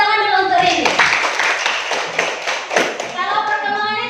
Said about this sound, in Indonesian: Tepuk tangan dulu untuk ini